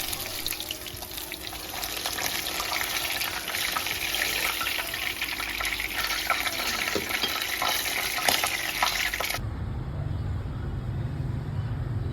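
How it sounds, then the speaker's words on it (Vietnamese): Red tilapia frying in a home pan, a steady dense sizzle and crackle filling most of the stretch before cutting off abruptly near the end to a quieter background. "Tiếp theo là mẹ mình sẽ chiên cá diêu hồng."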